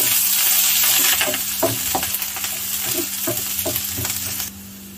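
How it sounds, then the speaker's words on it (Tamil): Chopped onions sizzle and fry steadily in a pan for semiya upma, with a spatula stirring and scraping through them in a close, continuous crackle and no talking. "ஆனியன் நல்லா ரோஸ்ட் பண்ணிக்கலாம்"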